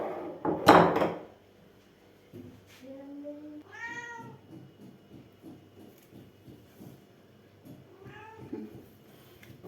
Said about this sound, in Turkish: Kedi de acıkmış bu arada.